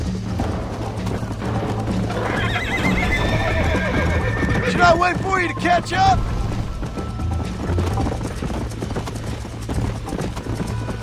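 Horse hooves clip-clop at a gallop in the video game Red Dead Redemption, with whinnies and neighs rising above the steady hoofbeats while someone speaks over the ride.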